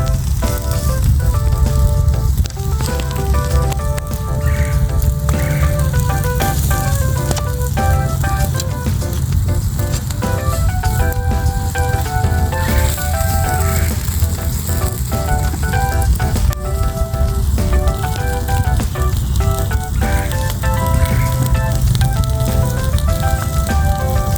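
Teriyaki chicken pieces sizzle loudly and continuously in a hot pan after being flipped, a dense crackling fry with no talking.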